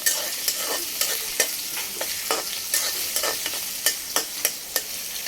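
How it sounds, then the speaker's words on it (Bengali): Sliced bitter gourd (karela) frying in a pan, a soft continuous sizzle broken by regular, distinct spatula scrapes and taps against the pan, close and clear with no voices. "এই যে দেখেন করলা ভাজি করবো অনেক সুন্দর করে।"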